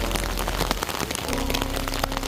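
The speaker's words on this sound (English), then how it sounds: "It's raining a lot." Heavy, cold rain beats down steadily outdoors near a church, a dense, constant patter of drops hitting surfaces close by.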